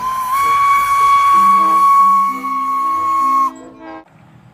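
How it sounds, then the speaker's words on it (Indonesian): A steam train whistle blows one long, loud, steady note for about three seconds, joined by lower tones before it fades out. "ini ada kereta api uap."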